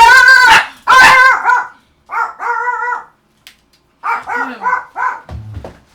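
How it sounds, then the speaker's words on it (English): A dog sets off a burst of loud, close barks and yips at a delivery arriving, bark clusters coming in several bunches with short pauses between them and a low whine near the end. "And the dog has been alerted to the delivery."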